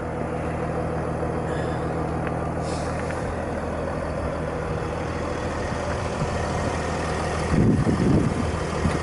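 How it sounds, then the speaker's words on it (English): A Mercedes E280 CDI Avantgarde diesel engine idles smoothly and quietly, a steady close low rumble with a brief louder swell near the end. "Car's ticking over, very smooth, very quiet."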